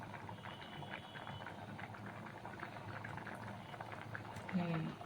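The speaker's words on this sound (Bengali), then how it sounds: "এই একটু ডালটা ফুটছে, এটা একদম সম্পূর্ণ নিরামিষ ডাল" Vegetarian mung dal boiling in a pot, a faint, steady bubbling simmer with a low murmur of voices in the background and a brief louder bump near the end.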